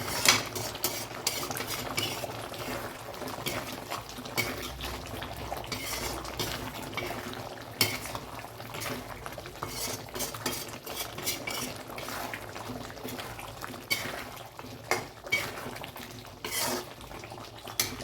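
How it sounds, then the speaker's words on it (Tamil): Drumsticks sauté in a pan for a Tamil kara kuzhambu, with steady frying hiss broken by repeated scraping and clinking of a metal spoon against the pan, close and continuous with no talking. "பாருங்கள் நல்லா வதங்கிட்டு இருக்கு"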